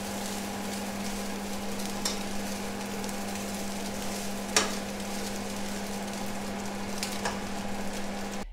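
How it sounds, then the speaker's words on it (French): Egg spätzle frying in melted butter in a pan, a soft, steady sizzle under a constant low hum, broken by a few sharp knocks of a utensil against the pan. "Et on va les faire revenir dans la poêle."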